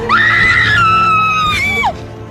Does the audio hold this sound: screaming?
yes